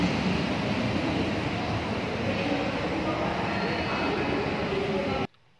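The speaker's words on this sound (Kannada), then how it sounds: "ನಾವಿವಾಗ ಕೋಣನಕುಂಟೆ ಕ್ರಾಸಲ್ಲಿರುವಂಥ ಮೆಟ್ರೋ ಸ್ಟೇಷನಲ್ಲಿದ್ದೀವಿ." Metro train at Konanakunte Cross metro station, a steady loud broadband rumble and roar of the train running through the platform area, continuous for about five seconds before cutting off abruptly.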